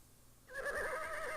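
A horse in the video game King's Quest 6 lets out a loud, wavering whinny that starts abruptly and rings on steadily until the end, heard alone after a quiet moment.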